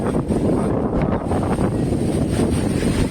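Strong wind gusting at the Kavlesaat waterfall near Amboli, a loud, steady roaring rush buffeting the microphone, with a low rumble that could include falling water, and no voices.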